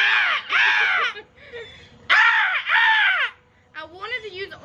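A pet bird squawks loudly indoors in harsh, raspy bursts, two long double calls separated by a gap, then a shorter warbling cry, with people talking around it.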